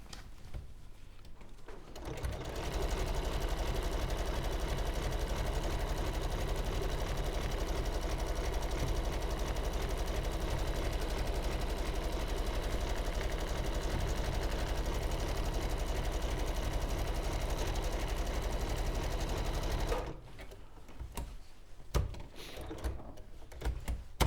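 A domestic sewing machine runs steadily for about seventeen seconds, stitching round the edge of an appliqué piece in white thread, with brief quiet handling before and after the run.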